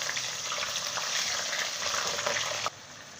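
Bone-in chicken for chicken karahi fries in a pot with a steady loud hiss and sizzle that drops abruptly near the end.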